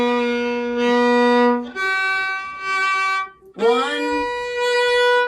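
A fiddle plays a few long, slow sustained notes with a pulse, each held for over a second with brief gaps and a gliding change of pitch.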